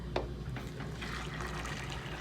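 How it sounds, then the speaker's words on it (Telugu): Water poured into a pot while preparing pulao, a soft steady splashing fill running throughout at low level. "ఇదిగో వాటర్ వేసేస్తున్నానండి"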